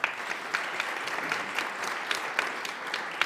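Audience applause greets a panelist introduced at a Finnish economics debate for parliamentary parties, a steady patter of many hands clapping at moderate loudness with no talk over it.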